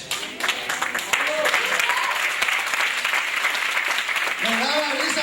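Church audience clapping, a loud, sustained patter of many hands with scattered individual claps, while voices speak over it near the start and end.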